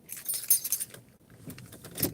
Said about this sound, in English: this set of keys